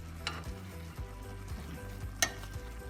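Coconut bun filling simmers in a pan while being stirred, a steady frying sizzle broken by rhythmic spoon scrapes across the bottom and a couple of sharp clinks, close and alone.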